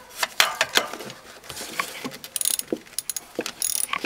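A ratchet wrench works loose a bolt on a Ford Ranger fuel rail, giving rapid bursts of close metallic clicking with short pauses and light tool clatter between strokes.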